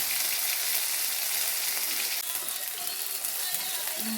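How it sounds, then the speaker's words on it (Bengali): Cumin and ginger paste sizzles steadily in a hot pan, a dense, continuous frying hiss that stays loud and unbroken throughout with no talking. "দেওয়া হচ্ছে একটু সামান্য পরিমাণে জিরে আর আদা বাটা"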